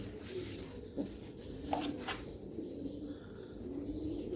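Sialkoti pigeons coo in soft, repeated low calls over a steady background hum, with a few faint chirps and rustles, moderately near and fairly quiet.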